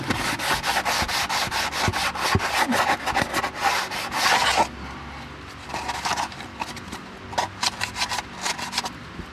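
Old gasket material is scraped off an engine cylinder head in steady, rapid, close rasping strokes that later thin into shorter, intermittent scrapes.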